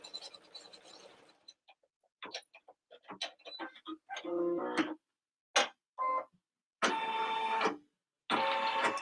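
An embroidery machine stitches an appliqué design for unicorn baby booties in loud, rapid mechanical bursts of clattering stitches, separated by short pauses, with no voices.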